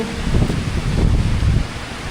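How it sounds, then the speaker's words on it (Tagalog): Strong wind roars and buffets against the microphone in a continuous low rumble, with rustling gusts throughout. "Sobrang lakas ng hangin"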